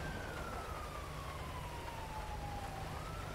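An ambulance siren wails in GTA 5 with the LSPDFR police mod, a single slowly falling tone held over a steady roar of engine and traffic noise, moderately distant.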